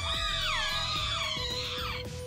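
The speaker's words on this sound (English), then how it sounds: "A cacophony of shrieks are up behind us." Shrill, wavering shrieks from a crowd of dolls in a visual novel game layer into a dense, continuous cacophony, close and loud, with sliding squeals rising and falling over low thumping.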